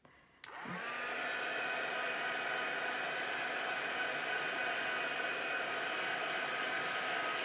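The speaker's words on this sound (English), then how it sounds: "I'm just going to put my heat tool on it just to dry it off quickly" A handheld craft heat tool clicks on to dry a freshly made craft piece, then blows a continuous, even, fan-like whoosh with a faint whine that stays steady to the end.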